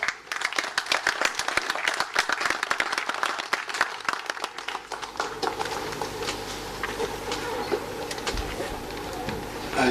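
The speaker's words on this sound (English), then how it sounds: "I think Governor Olayemi Kabuso deserves another round of applause." An audience applauds a governor at a formal regional gathering, with dense, lively clapping that thins and softens after about five seconds into a quieter, sustained patter.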